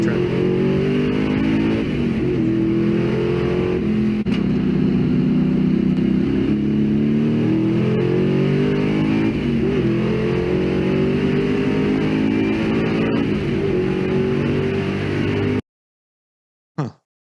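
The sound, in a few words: rumbling pickup truck engine, 6-speed manual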